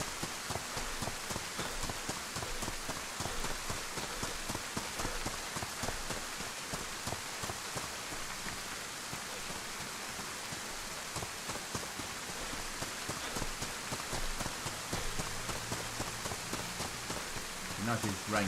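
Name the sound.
rain in a video game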